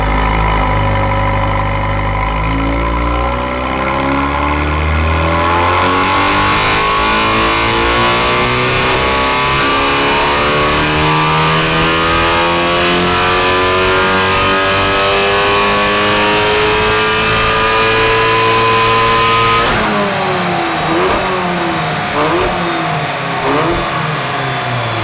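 A VW Golf R (MK7.5) engine revved on a driveway: a loud, sustained, rising engine note with a steady climb in pitch, a sudden drop near the end, then rapid, wavering revs.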